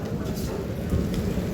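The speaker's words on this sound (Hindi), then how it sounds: "और बारिश तो काफ़ी ज़्यादा हो रही है" Heavy rain pouring onto a street, a dense steady hiss and patter recorded nearby, continuous and fairly loud across the short stretch.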